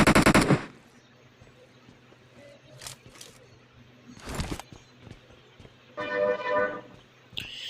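Gunfire in the BGMI battle royale mobile game: a loud opening burst, then scattered sharp shots and short rapid volleys separated by quieter gaps.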